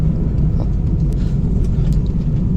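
A car driving on its way to servicing, a steady low engine and road rumble heard from inside, continuous and fairly loud with no talking.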